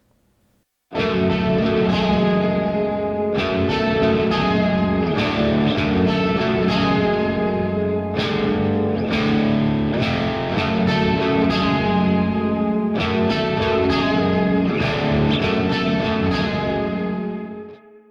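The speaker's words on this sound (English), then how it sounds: "I used the green channel, the clean channel for these clean tones" Clean electric guitar chords through the clean channel of an EVH 5150 III S EL34 100-watt tube amp ring out continuously with effects-laden, echoing sustain. The playing is loud and full, with no talking.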